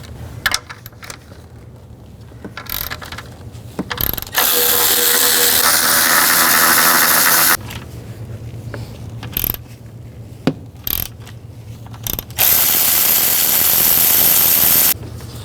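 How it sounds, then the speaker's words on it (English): Ratchet wrench with a 13mm socket clicks in short bursts and longer steady runs while removing intake manifold bolts on a 2010-16 Buick LaCrosse, close and loud with brief pauses between passes. "Then use a 13mm socket and take these 3 bolts out here and these 3 on the back."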